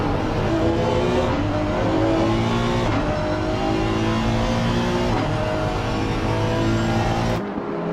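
BMW race car engine in a PC racing game at the Red Bull Ring, loud and close, with repeated rising revs through upshifts and a sharp cut at the end.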